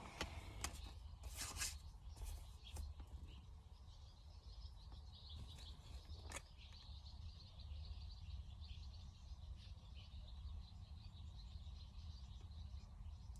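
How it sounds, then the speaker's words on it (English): Birds chirp and call outdoors in a lively but faint chorus, with a few sharp rustling or scraping sounds near the start and a low steady background hum. "The birds are going apeshit right now."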